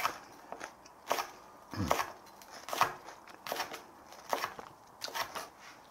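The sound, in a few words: knife slicing vegetables thinly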